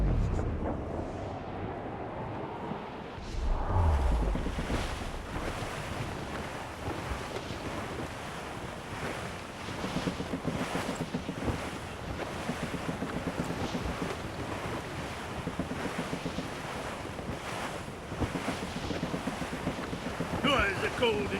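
Sailing ship under sail at sea in the video game Assassin's Creed Rogue, with a steady roar of wind and waves and a creaking hull throughout. A voice is heard faintly in the background.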